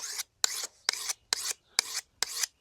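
A knife or axe blade is hand-sharpened with six rasping strokes, each a short scrape separated by a brief pause, close and clear with no voices.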